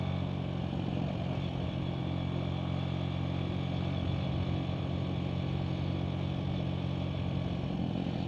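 A motorcycle engine runs steadily throughout, close and continuous, with a low even hum and a rattly texture while the bike is ridden toward Bardoli. No talk is heard over it.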